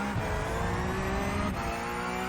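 Porsche Cup race car in the iRacing sim at Hockenheim, engine held at full throttle: a steady, loud, continuous high-revving drone with a faint rising pitch and no talk.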